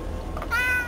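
A cat gives a single short meow from inside a car waiting at a McDonald's drive-thru, close and clear over a low engine hum.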